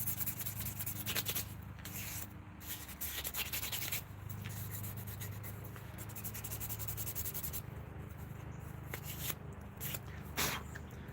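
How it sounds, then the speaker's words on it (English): Hand sanding on a wooden piece gives a steady, close scratchy rubbing that runs throughout, with brief sharper swipes and small pauses between strokes, and no talking. "the more I sand this thing"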